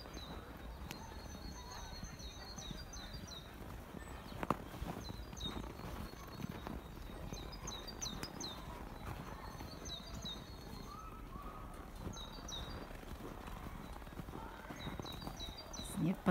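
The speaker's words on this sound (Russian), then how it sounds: "Снег под ногами скрипит." Snow creaks underfoot on a forest walk near Almaty after a snowfall, a run of soft crunching steps while small birds chirp in short repeated bursts in the background.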